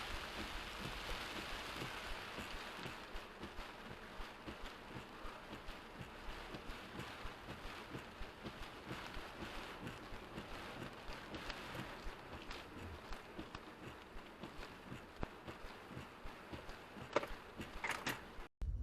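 Heavy rain drums steadily on a car driving on a Houston highway, with a constant hiss and wind noise, a sustained wet roar with scattered sharper spatters and a few clunks near the end.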